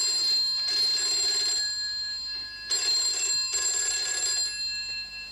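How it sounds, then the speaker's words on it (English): A loud old-style telephone bell in a television drama rings in two long bursts separated by a pause, harsh and close, with no talk over it. "That's a really loud phone."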